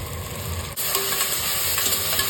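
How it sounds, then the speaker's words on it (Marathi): Tomatoes hit a pan of browned onions in hot oil, bringing a sudden swell into a loud, dense, steady sizzle with light stirring, heard up close and alone. "कांदा छान लाल परतला गेलाय, त्यामध्ये मी घालते टोमॅटो"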